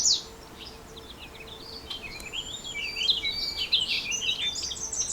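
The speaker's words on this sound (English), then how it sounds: "This is a red-winged blackbird here now." Several birds chirp and trill at a distance over a soft outdoor hiss, including a red-winged blackbird's song, with no voices.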